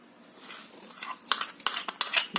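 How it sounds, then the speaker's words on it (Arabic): Coconut biscuit batter being stirred with a manual hand whisk in a bowl, a quick series of close metallic clinks and scrapes speeding up over a couple of seconds, no talking. "انا طبعا بعمل كل حاجه بالمضرب العادي ده، مش الكهرباء ولا حاجه. وهقلب واستمر في التقليب"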